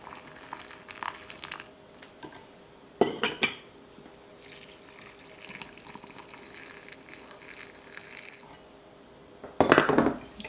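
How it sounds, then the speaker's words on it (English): Pickle brine is poured over packed solids in a jar in a home kitchen, making soft, steady liquid trickling with occasional louder glassy clinks and splashes near the start and end. "pouring the solids and then the brine over it"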